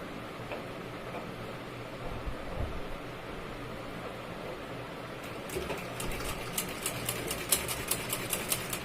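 A sewing machine stitches a button-placket blouse, a faint steady whirr that breaks into quick rapid ticking stitches near the end.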